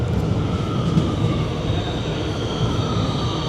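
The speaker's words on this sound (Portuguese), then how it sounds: "Inclusive o nosso metrô está chegando, o nosso trem." A subway train pulls into a station in Buenos Aires, a steady, loud rumble of wheels on rails with faint high squeal and hum throughout, no voices.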